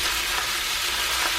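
An egg fries in a pan for leftover-rice fried rice, giving a steady, close, even sizzle with soft crackle throughout and no talking.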